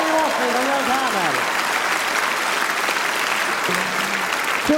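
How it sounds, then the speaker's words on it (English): Steady audience applause for a contestant named Carmel at a quiz, a full, close wash of clapping with a host's voice speaking over the start and again briefly near the end. "Round of applause for Carmel."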